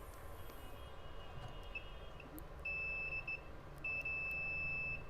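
A digital multimeter beeps while probing a capacitor on the SMPS board of an RO water purifier: two steady, fairly loud electronic tones, one starting near 2.6 s and a second near 3.9 s, over a low hum of background noise.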